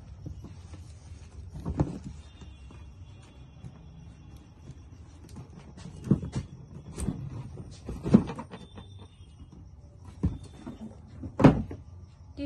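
A wrapped invitation gift box being opened by hand, heard as soft rustles, scattered close thuds and crinkles of paper and cardboard at an irregular pace, with no speech.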